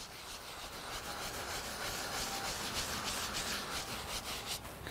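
A Camp Chef flat top griddle is scrubbed with steady, rough rubbing strokes, a continuous close scraping hiss with no talk.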